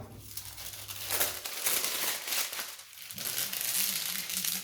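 Plastic film from a diamond painting kit is handled and smoothed flat, giving close, irregular crinkling and rustling bursts.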